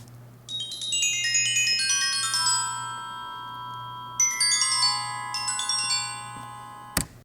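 Two bright cascading passages of bell tones ring out with long shimmering sustain over a steady low hum, ending in a sharp knock.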